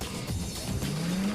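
A supercharged car slides out on a track with a rising tire squeal, the tone climbing over a loud continuous roar of engine and crowd or wind noise, heard close and without talk.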